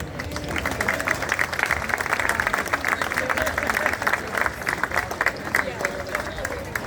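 An audience at an Italian feast in Lawrence, Massachusetts applauds St. Alfio Society members with steady, dense clapping that carries on throughout.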